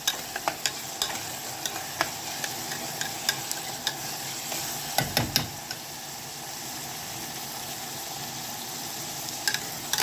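Onions and tomatoes fry in a pan for shakshuka, giving a steady crackling sizzle throughout, with close, irregular stirring clicks and scrapes on top and a brief louder scrape burst midway.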